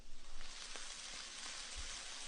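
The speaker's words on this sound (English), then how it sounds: "Almost every single rain sound in film and TV is actually the sound of frying food." Sizzling, crackling hiss of food frying in a pan, the kind of sound used for rain in film, steady and fairly quiet throughout with a few faint pops.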